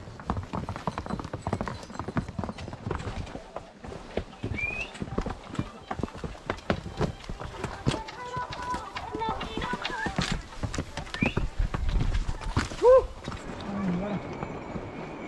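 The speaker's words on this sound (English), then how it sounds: "you don't want to get hit with a donkey tsunami" A donkey train plods past on a busy trail near Everest Base Camp, with dense hoof clip-clops, bells and shuffling close by, and people talking over it.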